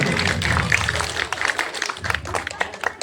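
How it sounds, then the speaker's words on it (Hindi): Clapping from an audience greets students called up on stage at a coaching class's farewell function, a steady patter of many hands under crowd noise and some voices. "जोरदार तालियों से स्वागत होना चाहिए।"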